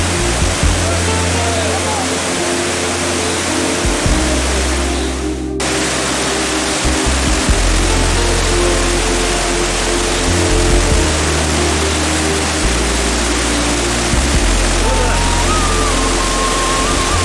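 A waterfall in Cherrapunji, Meghalaya roars steadily and loudly from close by, a dense, unbroken wash of rushing water that fills the whole stretch.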